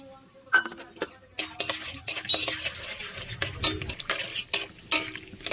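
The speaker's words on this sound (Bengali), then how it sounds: "কড়াইতে তেল দিয়ে আমি বাদামগুলো ভেজে নেব।" Peanuts fry in oil in a wok while a metal spoon stirs them, producing repeated sharp clinks and scrapes against the pan over a light, intermittent sizzle.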